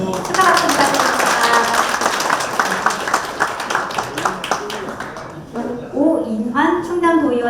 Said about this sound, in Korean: 축하 박수 부탁드립니다.